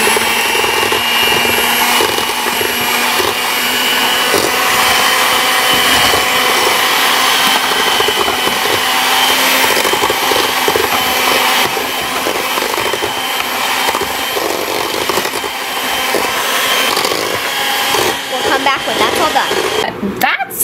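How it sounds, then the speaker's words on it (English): An electric mixer on low-medium speed works cookie dough as vanilla extract and egg yolks go in, giving a loud, steady whirring drone that runs unbroken throughout. "adding vanilla extract and two egg yolks, just the egg yolks, one at a time, mixing on low medium speed until well mixed."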